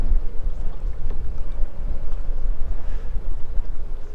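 Strong wind rumbles across the microphone on a kayak during a fishing trip, a dense low buffeting roar that stays loud and steady throughout, with no talk.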